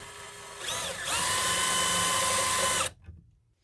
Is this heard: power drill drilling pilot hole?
yes